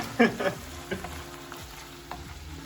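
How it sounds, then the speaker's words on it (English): Beef for bibimbap frying in a pan at home, a close sizzle with a few stirring scrapes near the start before settling into a steady quieter hiss. "Just cooking up this beef."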